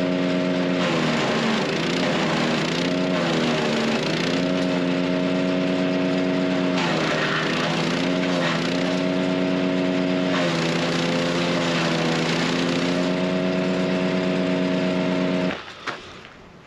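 A battery-powered DK2 power chipper, model OPC506G, rated for limbs up to 6 inches, runs with a steady loud motor whine and shifting pitch as load changes, cutting off near the end.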